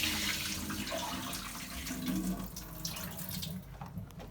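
Tap water pouring over chestnuts in a kitchen sink to wet them, a steady splashing rush, close and fairly quiet.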